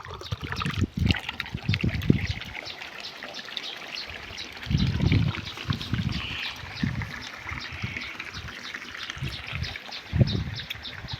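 Water pours and trickles into a metal mug in several uneven splashing bursts, fairly quiet and close, with pauses between pours.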